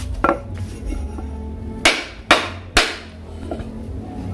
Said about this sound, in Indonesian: lurus, ketok pakai palu, palunya besar, jangan nanggung